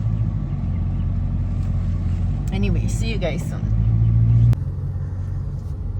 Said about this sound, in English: But this car is loud because it's a charger, fast car.